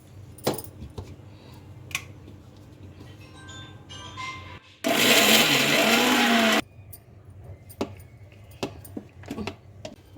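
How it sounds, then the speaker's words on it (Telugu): A mixer grinder whirs through peanuts, tamarind, salt and a splash of water for peanut chutney, one loud, steady burst of about two seconds in the middle, with quiet kitchen clatter and small knocks before and after. "కొద్ది వాటర్ వేసుకొని మిక్సీ పట్టుకుందాం"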